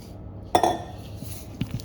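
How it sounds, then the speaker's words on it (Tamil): A spoon scrapes and clinks against a bowl while mascarpone, egg yolk, sugar and water are mixed, giving a couple of sharp clinks with soft scraping between them, close and fairly quiet. "இதை கொஞ்சம் மிக்ஸ் பண்ணி விட்டுருவோம்"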